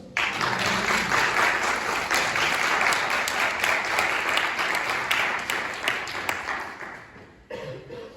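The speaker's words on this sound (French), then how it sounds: "J'aimerais sincèrement que vous applaudissez pour ça." A church congregation applauding steadily for several seconds, dense clapping that fades out near the end, with a brief cough-like sound after.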